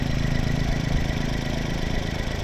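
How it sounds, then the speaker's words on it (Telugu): A Skoda Rapid car engine idles with a steady, even mid-pitched hum and a faint mechanical rattle, close by, with no talking. "ఇదిగో మీరు ఒకసారి ఇంజన్ సౌండ్ అయితే వినండి. ఇంజన్ అయితే ఆన్లో ఉంది."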